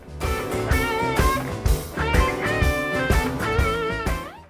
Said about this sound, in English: what you heard is I was using a Marshall JTM45 with my Cuba guitar